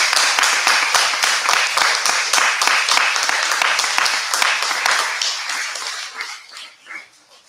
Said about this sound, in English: I'd like to give you all a round of applause.